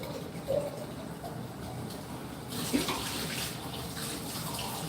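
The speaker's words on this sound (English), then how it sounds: "You can rinse that. Rinse that." Running tap water pours steadily while a baby bottle is rinsed, a continuous close splashing stream that grows brighter and louder partway through.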